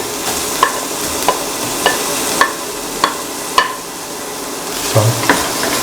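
Onion, green chilies, garlic, shallots and ginger frying in a pan: a steady soft sizzle with a spoon knocking against the pan roughly every half second, close by.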